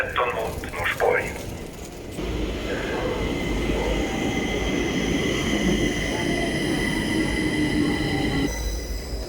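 A Stockholm subway train on line 13 toward Norsborg rumbles through T-Centralen station with a steady roar and high metallic wheel squeal, after a brief stretch of talking.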